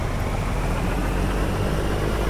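A Cummins N14 600 diesel in a Peterbilt 389 hauling a belly dump trailer in American Truck Simulator hums at a steady low drone, with a continuous rumble and no voices.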